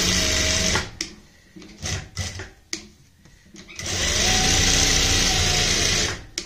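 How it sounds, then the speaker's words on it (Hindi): Sewing machine stitching a lattice-style neck on printed fabric with three threads, running in two bursts: a short run, then clattering pauses, then a longer steady whirring run close by. "तीन धागे डाल लें और इस तरीके से यहाँ पे सिलाई लगा लें।"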